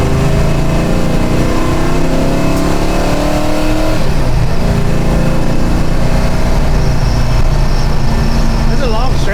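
A 1969 Hemi Road Runner V8 muscle car pulls hard down a long straight, its loud engine roar building steadily with shifting pitch and a constant heavy rumble throughout, and a voice faintly present underneath.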